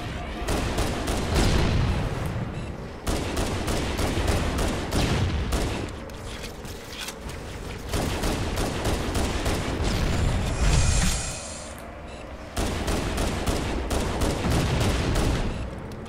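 Rapid gunfire in the Halo Anniversary video game as a pistol shreds a vehicle: loud, dense bursts of shots with booming impacts, broken by brief pauses and a short ringing burst of destruction.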